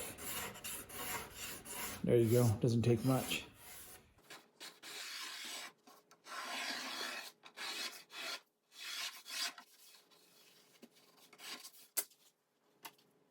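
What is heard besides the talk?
sanding wood by hand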